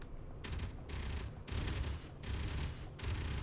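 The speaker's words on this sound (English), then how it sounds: "The Gatling guns still work," Gatling guns firing in a space ship building video game, rapid sustained bursts of mechanical gunfire in four or five long volleys separated by short pauses, loud and close.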